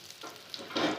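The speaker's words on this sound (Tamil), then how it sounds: "கடுகு 1/2 ஸ்பூன் சேர்த்திக்கலாம். நல்லா பொரியட்டும்." Mustard seeds spluttering in hot oil in a pan, a soft sizzling crackle with a brief livelier burst of popping near the end, faint and close.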